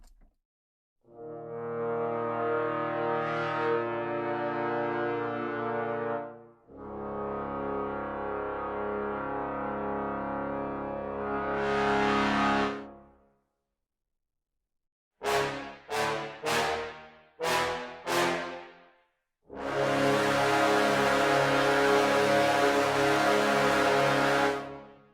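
Bass trombone multiphonics from a brass sample library, played as a run of long, raspy, harmonically dense sustained tones and swells, then several short punchy stabs and a final loud held note, with no talk.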